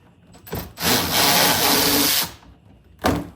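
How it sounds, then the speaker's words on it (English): A Milwaukee extended cordless ratchet loosens a bolt on a Tesla Model Y front bumper, giving one loud sustained whirring burst of about a second and a half, followed by a brief second spin, close up. "I just got this new Milwaukee extended ratchet. It's gonna make this bolt right here super easy."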